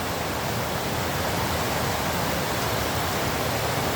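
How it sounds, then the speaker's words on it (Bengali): Rain pours down in a dense, unbroken hiss that stays even and fairly loud from start to finish. "বৃষ্টি নামছে আলহামদুলিল্লাহ"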